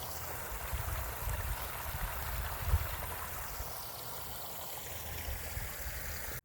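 Water runs steadily from a pipe into a duck impoundment, a constant broadband rushing and trickling wash at moderate level that holds evenly before cutting off abruptly at the end.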